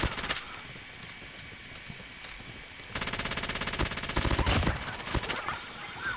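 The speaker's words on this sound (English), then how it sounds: "And here's the hip fire." Rapid automatic bursts from an RUS-79U fired from the hip in a ranked mobile shooter match, with dense rattling shots building in the second half over steady game noise.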